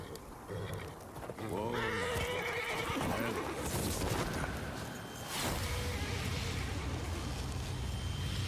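A horse in The Witcher 3 gives a loud, quavering whinny that descends over a couple of seconds, with hoof clip-clops, game ambience and a voice talking around it.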